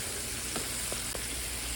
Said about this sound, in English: that's going to be sauteed until it is cooked through